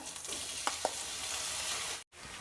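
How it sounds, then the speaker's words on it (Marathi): Onion and spiced fresh green peas sizzling in hot oil in a pan, a steady close frying hiss with a couple of light stirring knocks, and a brief dropout near the end. "हे दोन्ही व्यवस्थित मिक्स करून घ्यायचं आणि हे तेल सुटेपर्यंत परतवून घ्यायचं आहे"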